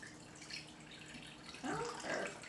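Chicken broth poured into a measuring cup for a cheesy chicken broccoli rice dish, a soft liquid trickle and splash that swells louder in the second half, close by in a kitchen.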